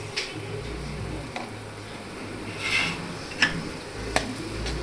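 Onions and spices such as turmeric, garam masala and salt frying in a pan for paneer tufani, with a soft steady sizzle and a few sharp spoon scrapes and clinks as the mixture is stirred.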